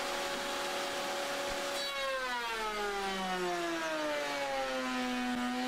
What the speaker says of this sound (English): you can kind of hear the router just shakes it